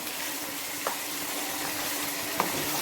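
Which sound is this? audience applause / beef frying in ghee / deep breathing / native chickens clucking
beef frying in ghee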